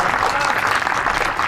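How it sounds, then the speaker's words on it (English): Spectators applaud the champion at the BSA Men's Open Singles bowls final, a dense, continuous burst of clapping from a nearby crowd that stays loud and even throughout, with no voices on top. "You can hear the applause for Niksha."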